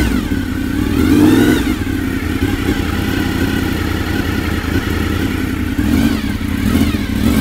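A Honda VFR 750 FT motorcycle engine runs close and loud, a steady mid-pitched idle with brief revs rising around the second and sixth seconds.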